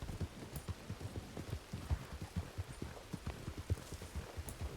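A horse's hooves clip-clop at a steady walking pace in the WildRP game world, a quiet run of soft, even, close hoofbeats.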